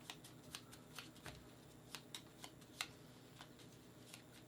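A deck of performance cards for the Luthier board game is shuffled, giving a quiet, soft run of riffling card clicks and flutters spread across a few seconds.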